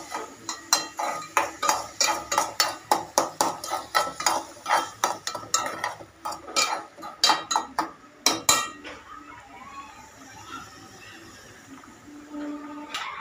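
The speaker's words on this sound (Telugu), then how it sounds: "పసుపు వేసేసి కదిపి ఒకసారి కలుపుకుంటాం." Turmeric and salt being stirred into a pan of ridge gourd pieces, with a quick run of sharp metallic spoon clinks against the pan that later fades to quieter scraping.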